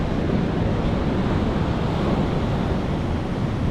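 Ocean surf rolls and breaks steadily on a sandy beach near Victor Harbour, a continuous loud wash of waves with wind buffeting the microphone and no voices.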